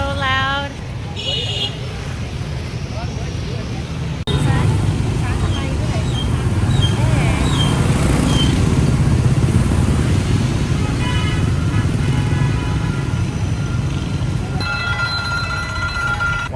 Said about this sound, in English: traffic is so crazy and so loud.